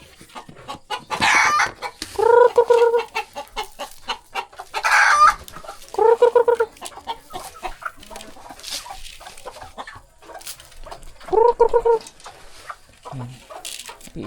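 Rhode Island and native chickens cluck and crow nearby, with several loud rooster crows spaced across the stretch among scattered clucks and short bird calls, and a dog may be heard.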